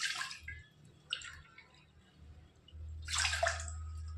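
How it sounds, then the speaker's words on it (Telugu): Water pours into a pot for lemon tea, a couple of short splashing bursts followed by a longer steady pour, close and fairly quiet. "ఫస్ట్ ఏమో ఒక 2 కప్స్ వాటర్ వేద్దాం."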